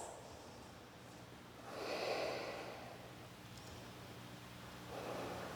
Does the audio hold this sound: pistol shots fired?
no